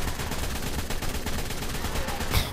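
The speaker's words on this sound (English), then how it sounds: "Is this assault rifle any good at point blank?" An assault rifle fires at point blank in The Ark, a dense, continuous stream of rapid gunshots at steady loudness throughout.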